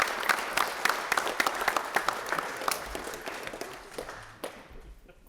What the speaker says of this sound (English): Give another round of applause to the Bulldogs